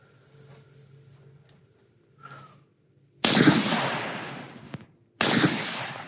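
A rifle fires at a shooting range: two sharp, loud reports about two seconds apart, each with a long rolling decay, after quiet handling noises.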